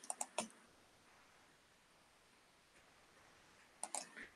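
Bursts of clicky keystrokes on a computer keyboard, a quick cluster of taps at the start and another short flurry near the end, separated by quiet room hiss.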